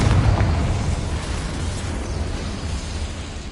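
In Hogwarts Legacy, the Confringo blasting spell sets off a loud, booming explosion that rolls into a rumbling, crackling tail, with no voices.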